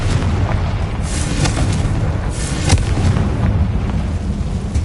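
Spell blasts in Hogwarts Legacy, heavy booming explosions rolling one after another into a loud, continuous rumble of magical combat.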